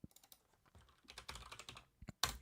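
Close typing on a computer keyboard, with uneven bursts of quick key clicks separated by short pauses and a louder cluster of strokes at the end, quiet and with no speech.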